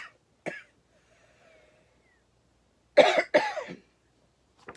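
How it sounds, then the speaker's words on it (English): A single short cough, then a pause, and two harsh coughs in quick succession, close and loud against near silence. "Excuse the coughing."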